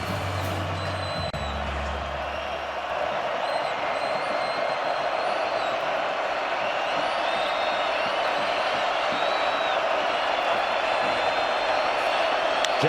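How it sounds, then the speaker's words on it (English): A large stadium crowd at a Kansas State Wildcats versus Colorado Buffaloes college football game roars in a steady, distant wash of noise with occasional whoops, while a commentator talks over it. "they need this crowd to be as rowdy as they've been all night"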